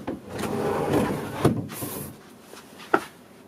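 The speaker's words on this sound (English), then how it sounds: "Hang on, that closet door's bothering me." A closet door swung shut indoors, giving a couple of short knocks and thuds over a dull room hum, close to the listener and fairly loud, with a sharper knock near the end.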